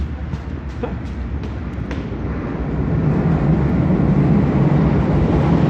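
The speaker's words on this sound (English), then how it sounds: "There's a rumble noise it makes, isn't it? The trains." Deep rumble of London trains in a tunnel, a low continuous roar that grows louder partway through, with a few faint knocks near the start.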